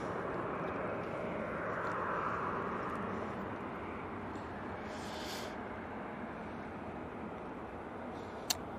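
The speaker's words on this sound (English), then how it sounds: "KLM Embraer now coming in." A KLM Embraer jet arrives at Manchester Airport, heard as a faint, distant engine rumble that swells slightly and then eases, with a brief click near the end.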